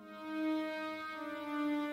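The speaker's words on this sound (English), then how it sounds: "I'm hearing a counter melody with viola sound like this." A sampled viola counter melody plays in music production software, with soft, sustained bowed tones that hold steadily and change slowly, quiet and alone.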